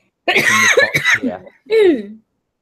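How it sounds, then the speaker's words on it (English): Two harsh, throaty coughs close to the mic, the first longer and rougher, the second after a short pause. "I did not know that a vape could actually make you cough."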